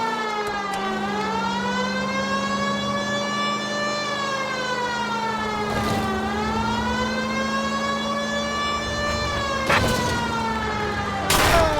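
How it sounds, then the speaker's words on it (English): Police car siren in the video game L.A. Noire wails continuously through the whole stretch, loud and steady with rising and falling sweeps, over a constant low engine hum and a couple of brief bangs near the end. "I suppose I should just hit the siren and quit fucking around."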